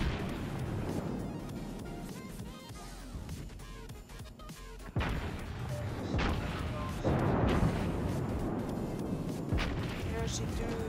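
Several heavy booming naval cannon blasts in the video game World of Warships, with rumbling tails over a bed of background music and chatter, loud and close.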